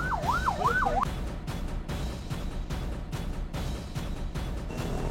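An ambulance siren wails in slow up-and-down sweeps amid jammed city traffic near Baloch Colony bridge in Karachi, loud and close at first, then the steady rumble of engines carries on with brief bursts of noise.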